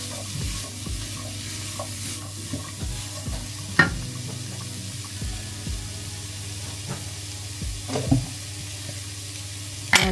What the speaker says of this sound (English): Stir that again.